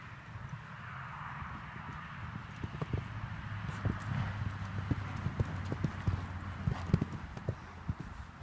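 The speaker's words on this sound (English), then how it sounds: "He's a horse." Horse hooves clip-clop in a steady, brisk walking rhythm close by, the clear repeated strikes continuing throughout without talk.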